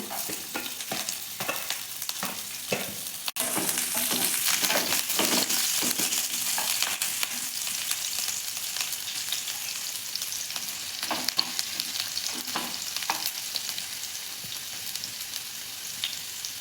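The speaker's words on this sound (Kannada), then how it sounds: "ಇವಾಗ ನೋಡಿ ಹೆಚ್ಚಿಟ್ಕೊಂಡಿರೋ ಶುಂಠಿ ಮತ್ತು ಬೆಳ್ಳುಳ್ಳಿ ಮತ್ತು ಮೆಣಸಿನ್ಕಾಯಿ ಹಾಕ್ಕೊಂಡು ಫ್ರೈ ಮಾಡ್ಕೊಳ್ಳೋಣ" Chopped ginger, garlic and chillies fry in oil in a pan for restaurant-style mushroom manchurian. A steady, loud sizzle runs throughout with occasional stirring scrapes and clicks, and no talking.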